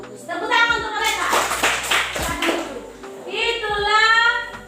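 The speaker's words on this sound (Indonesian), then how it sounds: "Tepuk tangan untuk mereka." Children clapping together in a classroom, a burst of quick hand claps mixed with kids' voices and a teacher speaking over them, close and lively, swelling and fading in waves.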